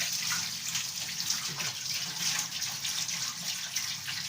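Tap water runs steadily into a kitchen sink to soak salad greens such as rocket, a continuous close splashing stream with no voices.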